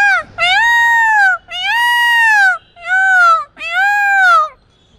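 A man imitates a peacock call with his voice, four loud, drawn-out wailing cries in a row, each rising and falling, close and clear with short gaps between.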